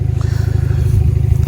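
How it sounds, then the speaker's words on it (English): A 2022 Kia Stinger GT-Line sits idling with its catback exhaust removed, giving a loud, deep, steady rumble with a rapid throbbing pulse, close by and alone. "the car is on right now. Just to hear how crazy it sounds without an exhaust on it, or without a catback on it"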